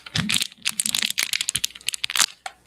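Rapid crinkling and crackling of thin plastic being handled, a dense run of sharp rustles and clicks close by.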